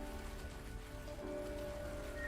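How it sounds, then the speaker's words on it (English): Steady rain falls on the planet Petrichor V in the video game Risk of Rain 2, a continuous close hiss that stays even throughout, with faint sustained tones beneath it. "I wonder why it's always raining on Petrichor 5."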